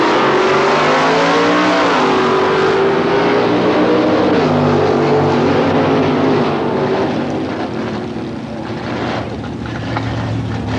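An early model Ford and a 1955 Chevrolet drag race at Palmdale Raceway, engines roaring loud and close with rising revs and pitch shifts as the cars accelerate down the strip, no talk over them.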